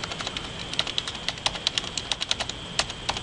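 Rapid keystrokes on a computer keyboard while entering text into AutoCAD 2014, a close, uneven run of light clicky taps over a faint steady hum, with no voices.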